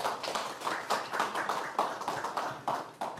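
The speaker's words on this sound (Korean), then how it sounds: "그러면 발제자께 박수 부탁드리겠습니다." A small audience at an academic legal conference claps for a presenter, with distinct, fairly sparse handclaps in an uneven patter heard close and clear for about three seconds.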